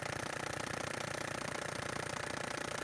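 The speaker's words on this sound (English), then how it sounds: "While the engine is running, oil is pumped to every corner of the engine along with paint remover" An old motorcycle engine runs steadily while flushed with paint remover mixed into its oil, a fast even mechanical chatter at idle, close and constant without pause.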